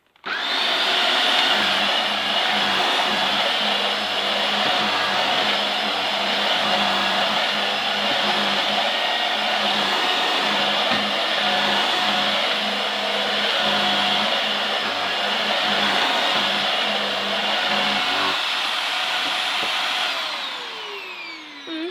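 A Vax Air Reach upright vacuum cleaner runs steadily on carpet, its loud, constant motor whine and airflow roar lasting about twenty seconds before shutting off and winding down.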